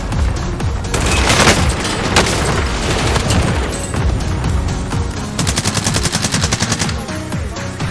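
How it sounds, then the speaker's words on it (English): Rapid automatic gunfire from the Pumpkin Punisher in Call of Duty Modern Warfare, in the Haunting of Verdansk event: loud, dense bursts of shots with booming impacts, nearly continuous throughout and with no talk. "Why are you still shooting?"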